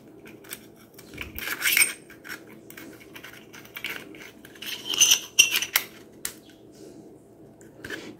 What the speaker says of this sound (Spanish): Y vamos a enroscar colocando el tapón en la parte de abajo.